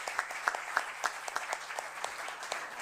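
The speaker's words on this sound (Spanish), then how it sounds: "Así que un aplauso para los..." A small audience at a lecture in a cultural centre claps in a sparse, uneven patter, individual hand claps standing out at a moderate distance with no voices over it.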